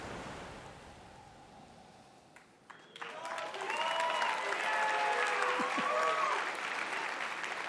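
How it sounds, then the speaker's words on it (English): A game presentation audience breaks into clapping that swells in after a quieter stretch of hall ambience and then holds as a loud, sustained wash of applause. "That was louder clapping for that than for Battlefield"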